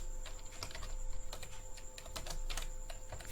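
Quick, irregular clicking keystrokes on a computer keyboard, close and fairly faint, tapping out a short entry with a steady electronic hum in the background and no voice.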